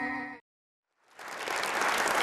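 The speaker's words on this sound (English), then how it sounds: "that crowd applause you hear all for Jenny and Larry after what they did" Studio crowd bursts into applause after a short spoken lead-in and a brief pause, the clapping swelling quickly into a dense, steady roar that holds to the end.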